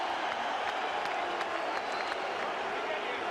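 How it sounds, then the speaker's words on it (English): A boxing arena crowd reacts after the Lennox Lewis versus Vitali Klitschko heavyweight fight, a constant wall of cheering and clapping heard somewhat distant beneath a commentator's voice. "Well, the crowd are on Klitschko's side."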